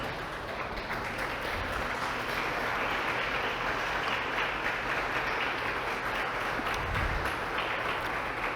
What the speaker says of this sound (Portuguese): Pode se assentar e aplaudir mais uma vez o nome do Senhor.